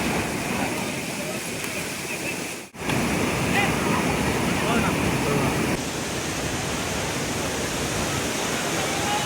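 Thirparappu waterfall in Tamil Nadu gives a continuous, loud broadband roar of rushing water, steady across the whole stretch with a brief dip partway through.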